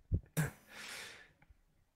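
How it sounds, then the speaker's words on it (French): A person sniffs and snorts through the nose a few times in quick bursts, one loud forceful snort followed by a fading breathy rush of air and a faint trailing sniff, close by with no talking. "Stop renifle toutes les 10 secondes"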